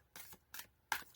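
Tarot cards shuffled in three quick, crisp bursts, close and alone with no talking.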